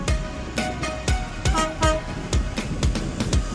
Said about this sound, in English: Here comes that train again.